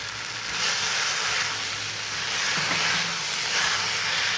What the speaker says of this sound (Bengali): এবার গুড়টা থেকে যেন জলটা ছেড়ে দিয়েছে, এবারই আস্তে আস্তে সেদ্ধ হয়ে যাবে খুব ভালোভাবে।